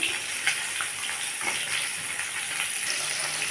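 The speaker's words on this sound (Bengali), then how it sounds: "তেলটা গরম হলে মাছটা ভেজে নেব" Rohu fish pieces fry in hot oil in a kadai, giving a steady close sizzle with scattered crackles and pops throughout, without any talk.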